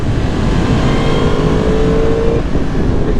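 A 2022 Yamaha MT-10 motorcycle engine drones loudly and steadily as the rider rolls on and off the throttle and brakes hard, the engine note close and continuous with strong wind rumble.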